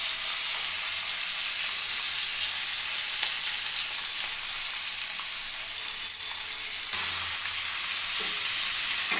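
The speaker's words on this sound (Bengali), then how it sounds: "ক্যাপসিকাম, কাঁচা লঙ্কা আর রসুনটাকে ভালো করে আমি ভেজে নেব" Onion, capsicum, green chilli and garlic fry in hot oil with a steady, dense sizzle that holds loud and close throughout, broken by a few faint stirring scrapes.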